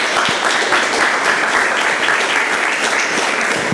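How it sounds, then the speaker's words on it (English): Steady, full audience applause at a live presentation, many hands clapping continuously and loudly throughout with no letup. "Big round of applause for Lewis and Lewis."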